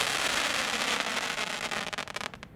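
A Dominator Fireworks crackling comet bursts into a dense, loud crackle of rapid pops that thins into a few scattered final snaps.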